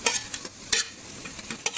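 Onions fry in a pan with ginger paste, a dense hiss broken by short scraping strokes of a spoon stirring the mix, close and alone.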